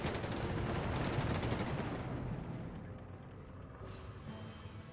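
Squads in the strategy game Company of Heroes 3 trade a steady, dense rattle of small-arms and machine-gun fire, fairly distant and faint, easing off slightly toward the end with no talk.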